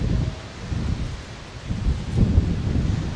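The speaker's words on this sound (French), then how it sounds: "Le vent est bien fort." Gusty wind roars and rustles steadily, with broadband noise swelling and buffeting the microphone, stronger in the second half.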